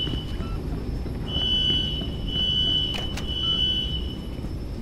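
Fire alarm in the video game INFRA, a thin steady electronic tone ringing in bursts over low background rumble, with a couple of brief sharp clicks partway through and no talking.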